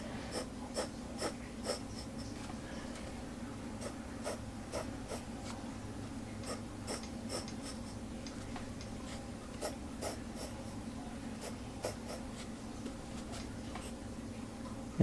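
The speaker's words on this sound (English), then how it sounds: "I'm just gonna draw some basic shapes here" Graphite pencil drawing basic shapes on paper, a quiet steady scratching with brief sharper strokes scattered through, close and soft over a low hum, with no talk.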